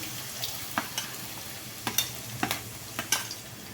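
Raw cut potatoes frying in oil for poha, a soft background sizzle punctuated by a handful of sharp spatula clicks and scrapes as they are stirred.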